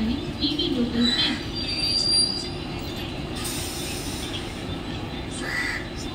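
A Mumbai local train bound for Thane pulls alongside platform 1 of a railway station with a steady rolling rumble, metallic wheel squeals and clanks, while a public-address announcement plays over it.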